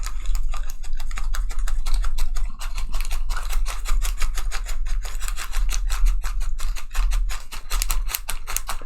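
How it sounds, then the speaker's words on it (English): Steady, rapid back-and-forth rubbing of an eraser during an online math tutorial, a continuous scratchy scrubbing with quick regular strokes, fairly close and loud, with no talking over it. "Now guys, while I'm erasing here,"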